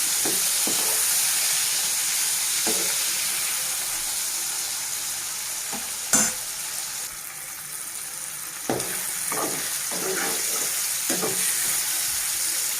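Tomato and other ingredients sizzle steadily in a hot pan, a constant close hiss broken by occasional clinks and scrapes of a spoon stirring.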